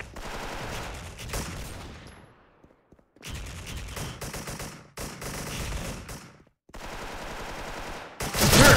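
Gunfire in a shooting video game: long bursts of rapid automatic fire separated by short silent gaps, ending in a louder, harsher burst, with no talk.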